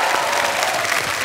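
A studio audience at a comedy talk show gives loud, thick applause, a continuous wash of many hands clapping at once.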